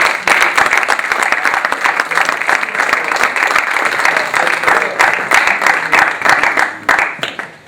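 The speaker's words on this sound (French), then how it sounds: "on peut les applaudir, ça." Audience at a live stand-up comedy show applauds loudly, a dense sustained wash of clapping with scattered whoops that carries on steadily before tapering off at the end.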